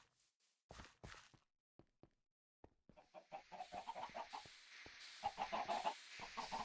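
Chickens clucking in the Minecraft modpack FTB Infinity Skyblock, sparse clicks and taps at first, then a dense run of short clucks and bird calls with no talking.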